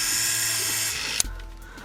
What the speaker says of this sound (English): So let's try out this drill.